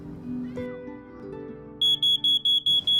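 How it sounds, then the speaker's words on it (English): A smoke alarm starts shrilling in a rapid series of six loud, piercing beeps after a few seconds of low indoor hum. "Oh no, that's the smoke alarm."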